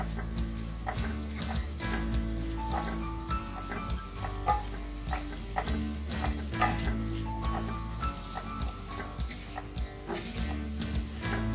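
Okra cooked in a spicy mustard masala with chopped coriander leaves, stirred in a pan. A steady, close scraping and sizzling runs throughout under a continuous tonal background, with repeated spoon strokes against the pan.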